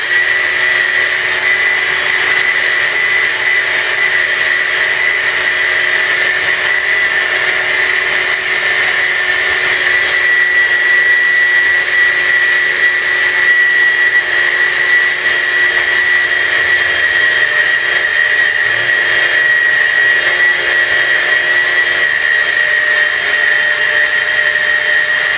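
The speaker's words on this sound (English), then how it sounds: "Make sure we get the cashews all whizzed up." A blender whizzes cashews for raw cookies, a loud, steady high-pitched motor whine with grinding texture that runs unbroken and close for the whole stretch.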